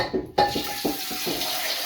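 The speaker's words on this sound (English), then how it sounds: "So I'm just gonna pour some water in the pan" Water pours steadily into a metal pan, a continuous splashing rush that starts abruptly after a brief clink and carries on close by.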